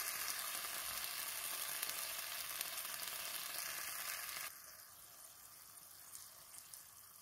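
Snow peas and onions sizzling in a frying pan after a little water is added, a steady close hiss that drops to a quieter simmer about halfway through.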